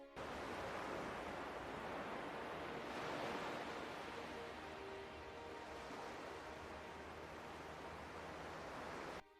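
Ocean surf rolls onto the white sand of Lanikai beach on Oahu's windward side as a steady, broad wash of noise that swells slightly and eases, with no voices.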